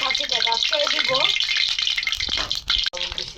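Oil sizzles and crackles steadily in a pan heated for frying tangra fish, a bright hissing spatter heard close up, with a voice speaking briefly over it.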